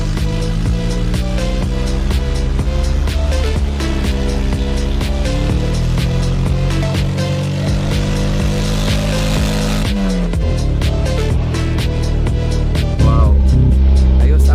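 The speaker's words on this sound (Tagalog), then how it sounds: "paandarin mo na yung makina na yon" A car engine runs steadily after a fuel pump repair, a loud, close, continuous drone with shifting pitch and a brief rev near the end, no talk over it.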